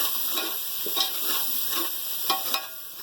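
Spice masala frying in a pan for white matar pulao, a steady sizzle with soft stirring scrapes and a few brighter clicks of a spoon against the pan, continuous and close.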